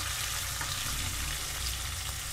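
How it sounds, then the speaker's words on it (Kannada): Curry leaves and green chillies fry in hot oil in a pan for a brinjal curry, giving a steady, close, dense sizzle that runs unbroken throughout with no talk. "ಇವಾಗ ಕರಿಬೇವು, ಹಸಿಮೆಣಸಿಕಾಯಿ 2 ಸೇರಿಸ್ತಾ ಇದ್ದೀನಿ. ಸ್ವಲ್ಪ ಚೆನ್ನಾಗಿ ಫ್ರೈ ಆಗಬೇಕು."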